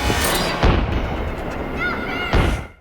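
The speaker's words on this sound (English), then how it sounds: "Suddenly, Jack hears a loud gunshot coming from the bathroom." A loud gunshot rings out in a horror film's bathroom scene: a booming report echoes, then a second heavy blast follows a couple of seconds later.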